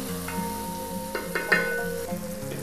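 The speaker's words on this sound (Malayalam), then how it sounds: "ആഡ് ചെയ്ത ടൊമാറ്റോയും നന്നായി കുക്കാവുന്നവരെ നമുക്കിത് നന്നായിട്ടൊന്ന് മിക്സ് ചെയ്തുകൊണ്ടേയിരിക്കുക." Onions and tomatoes for Chettinad chicken biryani fry in a pan, a low steady sizzle with a few sharp clinks and scrapes as a spoon stirs them.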